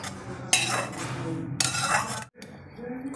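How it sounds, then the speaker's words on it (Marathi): Sautéed tomatoes for kadai paneer scraped out of a wok into a dish: two bursts of metal spatula scraping and clinking against the pan, close and fairly loud, with a brief silence near the end. "आता हे टोमॅटो पण खाली उतरून काढून घेणार आहे डिशमध्ये"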